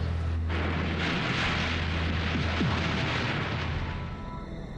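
A volcanic eruption explosion at Mount St. Helens, a deep continuous roar with a low rumbling base and a broad hiss, loud and sustained throughout with no talking.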